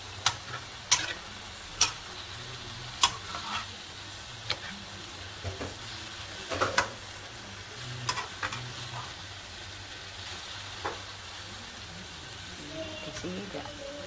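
Fish mushroom stew being stirred in a pot, with sharp intermittent scrapes and clinks of the utensil against the pot over a low steady simmer, while a voice talks faintly in the background.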